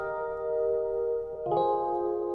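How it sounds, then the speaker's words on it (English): Mellow Rhodes electric piano chords ring out with bell-like sustain, one chord changing to another about halfway through. "So this is a Rhodes sound."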